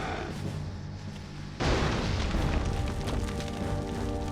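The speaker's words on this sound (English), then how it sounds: "Let me use a couple of grenades here." A grenade detonates partway through, a sudden loud boom in the shooter game Resistance, followed by a rumbling, crackling tail over a steady background of game sound.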